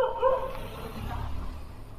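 A dog barks and yelps at night outdoors during a night out, a short sharp call near the start fading into low background noise.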